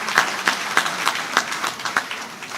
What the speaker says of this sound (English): So we go back to a resounding applause for the planning committee once again.